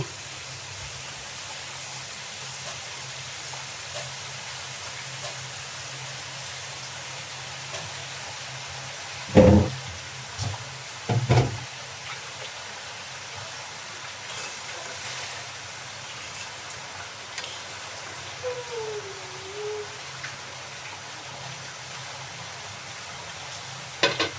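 Hilsa fish pieces fry in a pan for a hilsa and black cumin (kalojira) curry, giving a steady, soft hiss of sizzling oil that runs throughout, broken by a few brief clatters near the pan.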